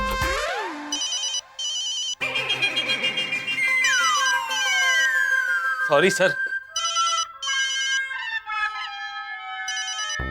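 A bright electronic ringtone chirps and trills in repeating bursts with sweeping tones, while a voice speaks briefly over it.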